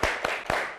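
Three separate claps from children playing the tepuk tumbuhan rhythmic clapping game in a primary school class, evenly spaced about a quarter second apart, close and fairly bright, with no voices.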